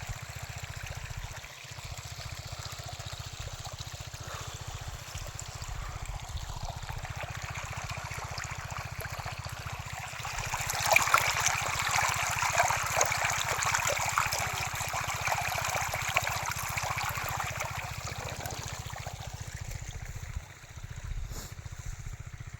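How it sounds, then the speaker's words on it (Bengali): Irrigation water flowing through a field of ashwagandha, a steady rushing trickle with a low hum beneath, growing briefly louder midway. "সেচের কাজ চলছে। এটাই লাস্ট সেচ বা লাস্ট জল দেওয়া"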